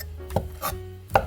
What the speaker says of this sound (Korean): 이런 방법으로 돌돌 말아서 썰어도 좋아요.